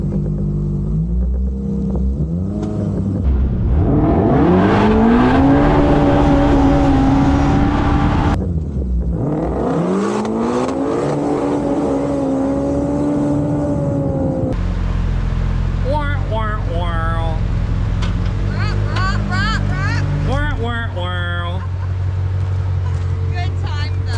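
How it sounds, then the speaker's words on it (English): A drag race car engine, in a Pro R versus Shelby Track Pack 900 HP race, roars loudly and steadily, then holds and bounces on the rev limiter with a stuttering, pulsing buzz. Voices talk over it. "You just sat on the rev limiter for like 4 hours."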